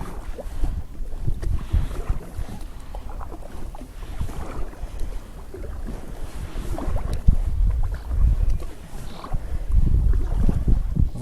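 Wind buffets the microphone in low, rumbling gusts while a kayak is paddled upstream against a headwind and current, with faint water splashes beneath, no talk.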